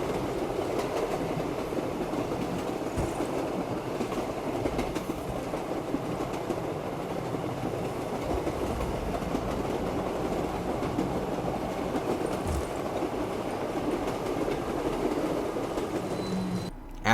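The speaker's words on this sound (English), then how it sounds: "taking the train from the waterfront district to the footlight district first" Steady rumbling ride on a train in Black Ops 3 Zombies Shadows of Evil, a continuous rolling roar with faint rail clatter throughout, no voices.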